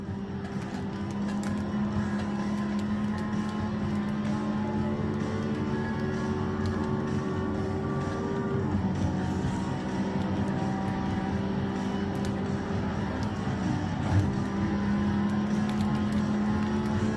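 A race car engine in a PlayStation 1 racing game drones continuously at a steady, loud pitch with slight shifts in tone, a synthetic engine hum running throughout with no talk.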